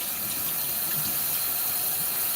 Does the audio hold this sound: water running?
yes